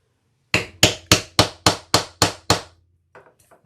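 A hammer strikes a tool setting wide rivets into a leather crossbody handbag: eight sharp, evenly spaced loud blows in quick succession, followed by a few lighter taps.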